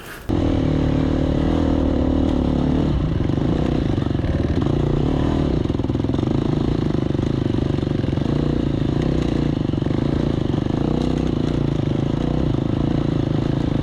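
A small dirt bike, a 2012 Honda CRF 250 X, runs steadily and loud up close while being ridden, its engine droning continuously with slight shifts in pitch and no pauses.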